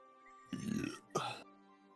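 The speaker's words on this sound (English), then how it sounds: "the burp covered it up" A short burp during a quiet moment in a tabletop game session, two brief broadband bursts close to the mic over a faint steady background hum, with no talk over it.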